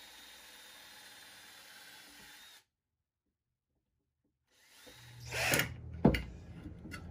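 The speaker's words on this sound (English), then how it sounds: "So now I'll go ahead and drill the holes on the side." A power drill bores holes into the side of a computer desk, a close grinding burst after a quiet gap, rising, peaking, then tapering off with brief knocks.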